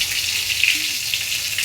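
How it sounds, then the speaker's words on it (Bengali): Sliced bitter gourd frying in hot oil, a steady close hiss and sizzle with faint crackles throughout, with no voices. "চিটা করলা ভাজা হচ্ছে"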